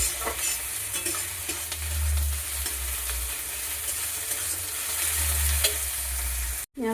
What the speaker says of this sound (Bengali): পেঁয়াজ আর রসুন ভালো করে ভাজতে থাকি।